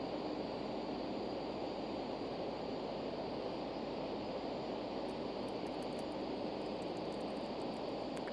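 Twin jet engines of a Cessna Citation C525 roar steadily at takeoff power in a flight simulator, a dense, even broadband whoosh that holds without change for eight seconds, with faint clicks near the end and no speech.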